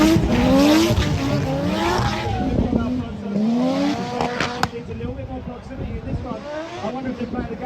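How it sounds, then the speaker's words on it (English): A Corvette drift car battling at Mondello Park in Ireland, its engine revving hard in rising and falling sweeps with tire squeal, loud and close under an announcer's commentary. "See now puts the front end of that Corvette right on that inside zone."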